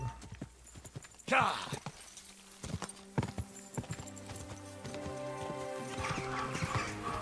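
Horse hooves clip-clop in Kingdom Come Deliverance 2, an irregular run of hoofbeats with a brief neigh-like burst, heard over layered game music and ambience.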